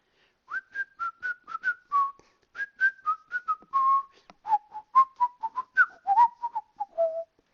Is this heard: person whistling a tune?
yes